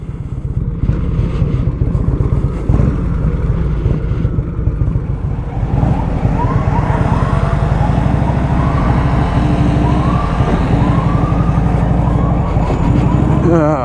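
A wailing ambulance siren rises and falls through heavy street traffic in Bed-Stuy, Brooklyn, with engines rumbling and a voice talking over the noise.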